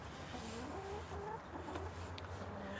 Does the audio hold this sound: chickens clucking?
yes